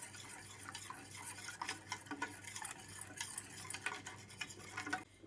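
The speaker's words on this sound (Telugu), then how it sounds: "దీంట్లో వేసుకొని ఇట్లా తిప్పాలి." A spoon stirs a cornstarch mixture into hot chocolate in a pot with steady, quiet scraping and soft clinks. The strokes are close, repeated and faint, with no talking.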